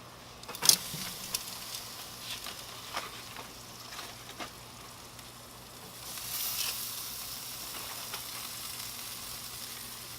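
Pork ribs are laid on a hot Gourmet Guru grill. A few scattered clanks and taps come first, then a soft, steady sizzle rises and holds for several seconds, fairly close.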